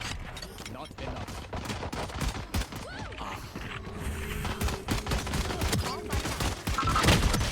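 Dense, continuous gunfire in the Valorant video game, with rapid weapon bursts and overlapping shots layered over the game's background sounds, heard loud and sustained throughout.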